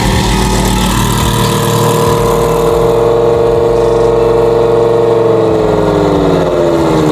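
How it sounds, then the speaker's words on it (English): A Lamborghini Huracan engine runs close and very loud, a rough burbling idle with pulsing low-end throbs that swells into rising revs toward the end, with no voices over it. "Alex's Huracan is insane. Listen to it"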